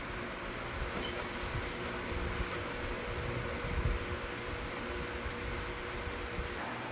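A plastic headlight lens is wet sanded by hand with 800 grit sandpaper in steady back-and-forth rubbing strokes, soft and close, with no one speaking.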